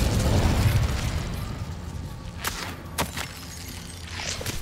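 Incendio fire spell cast in Hogwarts Legacy: a burst of roaring, crackling flame up front, fading into rumbling game ambience with a few sharp pops later.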